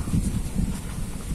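Low, blustery wind under a Bangkal tree buffeting the microphone in soft gusts, a rumbling rush close up with no voices.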